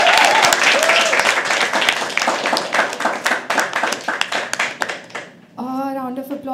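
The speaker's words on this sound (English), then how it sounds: "Keep clapping, keep clapping." Audience applause at a live poetry open mic, dense steady clapping from a crowd filling most of the stretch, thinning near the end as a voice begins speaking over it.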